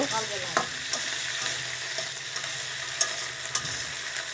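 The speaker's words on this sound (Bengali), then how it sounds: "একটু ভেজে নিব" Onions frying in a pan for Bengali aloo dum, a steady close sizzle with a few sharp clicks and scrapes of stirring scattered throughout, no voices.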